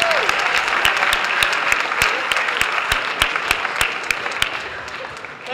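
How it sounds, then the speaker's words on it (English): Applause for the mayor at a high school greeting event, a crowd clapping steadily with several loud, distinct nearby claps punctuating the wash and a voice briefly heard underneath. "Let's give another big round of applause for the mayor."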